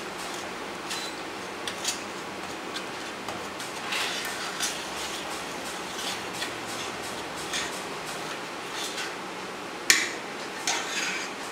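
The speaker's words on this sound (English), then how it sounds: "And mix it well." Spoon clinking and scraping against a bowl while tteokbokki chili sauce is stirred, soft irregular taps and light rattles, mostly quiet with one sharper knock near the end.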